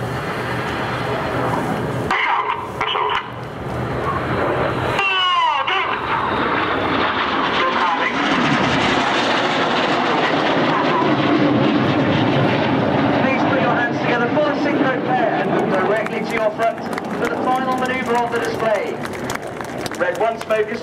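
Red Arrows jets fly display manoeuvres at the Farnborough 2012 airshow, a loud continuous engine roar that builds and sweeps past, with a commentator talking over it throughout.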